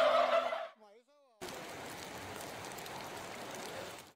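Farmed turkeys at an Agishi turkey farm in Wajima give a short, loud gobble at the start, then the sound cuts to a steady, soft hiss like rain for the rest.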